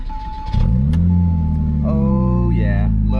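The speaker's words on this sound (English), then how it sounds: "First cold start of the day." A Porsche engine cold-starting: a brief cranking, then a loud catch into a high, steady idle that holds with a rising whine, up close.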